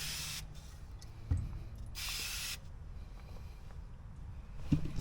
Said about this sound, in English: get your penetrating oil, and this is WD-40 because it's cheaper in a gallon, and I can douse the snot out of it